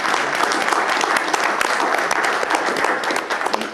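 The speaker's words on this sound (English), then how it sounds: "I would suggest that's worth applauding" An audience breaks into steady, sustained applause, many hands clapping in a dense, fairly loud wash that stays even across the whole stretch before easing slightly at the close.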